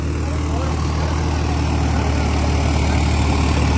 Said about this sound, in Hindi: डेमो पे स्पेशल मंगवाया गया भाई ट्रैक्टर